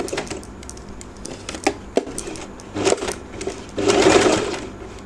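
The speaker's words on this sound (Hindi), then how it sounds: "मशीन की सुई कपड़े में ही है" A sewing machine stitches the neckline of a gathered frock, running in uneven bursts with short pauses and growing louder and steadier toward the end, with no talking.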